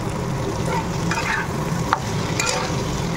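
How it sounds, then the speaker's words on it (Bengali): Potatoes fry in a pan, giving a steady close sizzle with a few brief scraping stirs, with no voices. "আর এই যে এখানে আলুটা ভাজা বসিয়েছি"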